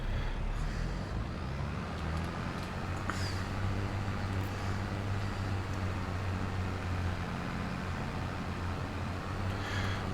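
A tractor engine in the Court Farm farming game runs as a steady, loud low rumble with broadband mechanical noise, continuous and unchanging throughout, with no talk over it.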